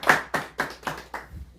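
Five quick rhythmic claps from a church congregation, close and fairly loud, fading slightly toward the end with no voices.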